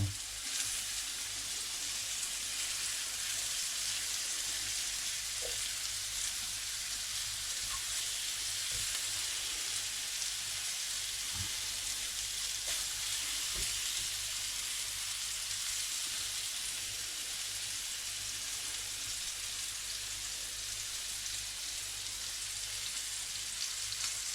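Butter sizzling in a frying pan, a faint steady crackle and hiss throughout with a few soft ticks and pops.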